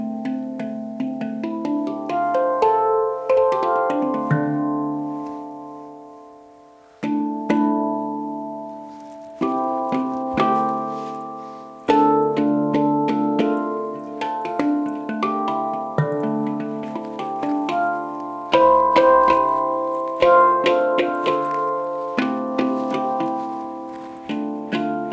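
Handpan played in a sound test, each struck steel tone ringing out with long, shimmering overtones as notes are tapped in loose melodic phrases, decaying between strikes over nearly half a minute.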